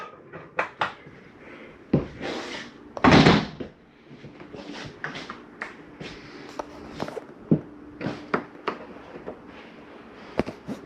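Inside a 2021 MesaRidge 371MBH RV, cabinet doors and drawers are shut one after another, giving sharp knocks and a louder thud, with footsteps and light rustling between them.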